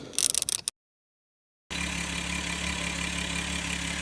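A VW Mk4 VR6 engine being started after a coolant pipe and thermostat housing install: a brief burst of clattering noise, a short silence, then a steady, even engine idle humming continuously.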